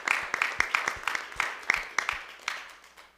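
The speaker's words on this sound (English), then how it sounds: "So a round of applause, please." Sparse applause from a small audience, a few hands clapping in an uneven rhythm of distinct claps for about three seconds, fairly close and with no voices.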